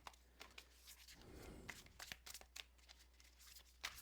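Shadow Love Tea oracle cards are shuffled by hand, a deck of around 100 cards, producing soft papery riffles, slides and flicks in uneven bursts, faint and close with no voices.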